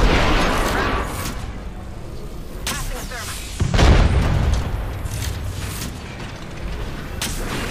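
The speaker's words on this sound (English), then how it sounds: "I threw a nade at it." A thrown grenade goes off in the Apex Legends battle royale shooter, a heavy boom rising out of a steady rumble of gunfire and game noise, with a player's voice talking over the action.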